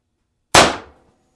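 A single sharp shot from an x68 paintball marker fitted with a Pistelle barrel and suppressor: a sudden crack out of silence that decays over about half a second, then quiet.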